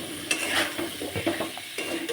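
Turmeric, salt and vegetables frying in a pan, a steady close sizzle with scraping stir strokes and a few soft utensil knocks, no talk.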